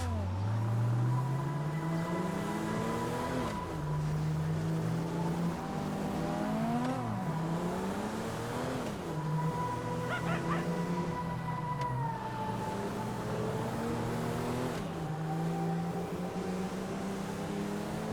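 A car driven around a city block in the video game GTA 5, its engine droning steadily and rising and falling in pitch through gear changes and turns, continuous and fairly loud with no talk.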